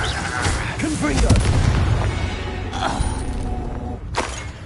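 Confringo blasting spell cast in the Hogwarts Legacy video game, a loud burst of crackling, booming impacts with a sharp blast near the start and another crack later, mixed with game effects and a brief spoken voice.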